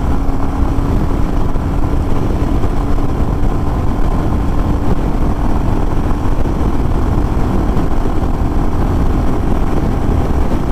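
A Royal Enfield Bullet 350 single-cylinder motorcycle runs at full throttle on a highway, giving a loud, steady engine drone mixed with wind rush that holds unchanged for the whole stretch.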